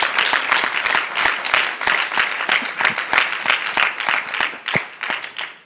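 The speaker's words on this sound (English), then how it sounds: "a big applause to them" Audience applause at an Eshwaramma Day celebration, a dense burst of many hands clapping close and loud, thinning slightly toward the end.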